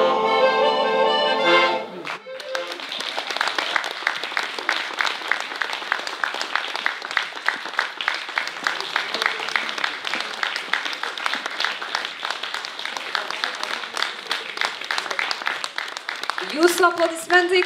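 An audience at a Lithuanian folk song concert claps for the performing group, sustained dense applause lasting most of the stretch, with singing briefly before it starts and voices at the very end.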